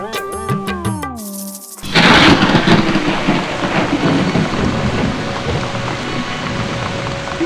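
Heavy rain pours down with rolling thunder, a loud, dense steady wash beginning abruptly after a short burst of musical tones and continuing unbroken to the end.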